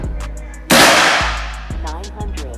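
Loud, close single shots from a semi-automatic rifle fired one at a time in manual mode, each a sharp crack trailing into a long decaying echo, with a few faint clicks between them.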